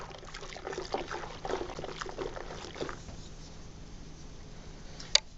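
Thick must of fermenting Concord grapes being stirred down, giving wet sloshing and squelching liquid churns for about three seconds, then quieter, with one sharp knock near the end.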